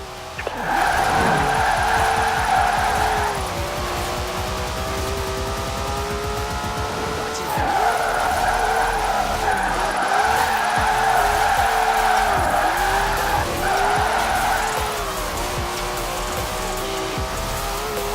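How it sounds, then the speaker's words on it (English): A drift-club car in the Forza Horizon 4 racing game revs hard as its tyres squeal through long slides, the engine note rising and falling in repeated waves close up, with no talk. "Now let's really shred those tyres."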